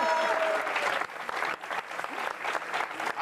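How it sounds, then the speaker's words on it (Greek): A studio audience on the Greek game show Super Buzz applauds, sustained crowd clapping that starts loud and continues at a fairly even level, with a faint voice at the start. "Ένα χειροκρότημα, παιδιά."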